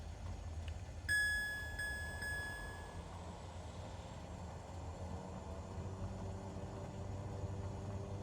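Cessna SkyCourier twin turboprop in Microsoft Flight Simulator 2024 going into reverse thrust on the landing rollout: a sudden swell of broad engine roar with a brief high whine, then steady loud rumble to the end.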